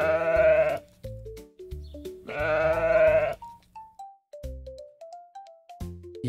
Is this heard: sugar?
no